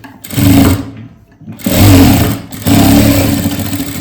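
A sewing machine stitches along the folded hem edge of a blouse, running in three close, loud bursts of rapid mechanical chatter separated by short pauses.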